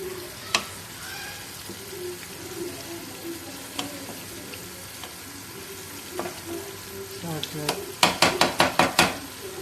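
Masala for qeema karela frying in a pan, a steady low sizzle with occasional stirring clinks, ending in a quick run of sharp metal scrapes and taps against the pan.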